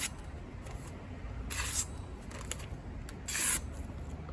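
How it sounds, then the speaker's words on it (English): A knife drawn slowly tip-first backwards along a leather strop, faint steady rubbing with two brighter swishy strokes, close and quiet with no talk. "I just place the tip of the knife down on the strop and slowly move it backwards"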